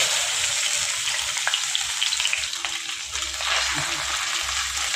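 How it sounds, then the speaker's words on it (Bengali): Fish fat fries in a little oil in a pan, giving continuous close sizzling and crackling with a few stirring scrapes and small splatters. "তেলটা মাছের তেলটা আগে ভেজে নেব ভালো করে"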